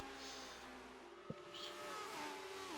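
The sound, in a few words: racing cars in a 1960s Grand Prix race video game at Silverstone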